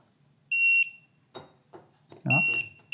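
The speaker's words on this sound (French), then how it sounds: "Oh, il a fait une nouvelle alarme." An EDAPT liquid level indicator for a blind user sounds its alarm, a high, sharp electronic beep that sounds once, breaks off, then starts again, interleaved with short remarks from a nearby voice in a quiet room.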